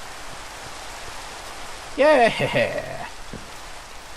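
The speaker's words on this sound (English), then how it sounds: "I am back up on surface when it's raining. Ooh, I like that sound." Steady rain falls in a video game, a soft continuous hiss throughout, with a short spoken word partway through.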